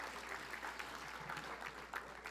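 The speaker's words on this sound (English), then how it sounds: "Give a round of clap for Crystal." Audience members at a 2022 Comic-Con panel give a round of applause, a faint, distant wash of clapping hands that holds steady over a low room hum.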